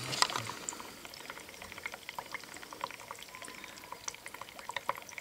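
Bubbles escaping as a safety valve lifts during a pressure test, a steady fizzing and gurgling stream with scattered small pops, moderately close and continuous without speech.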